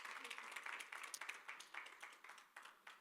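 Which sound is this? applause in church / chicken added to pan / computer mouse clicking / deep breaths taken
applause in church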